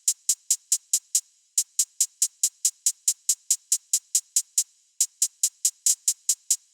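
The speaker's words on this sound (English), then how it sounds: "I used a hi-hat with this pattern on it. It sounds like this." A looping hi-hat pattern in an FL Studio beat: crisp, bright closed hits in a steady rapid rhythm, briefly pausing between bars, loud and dry with nothing else playing.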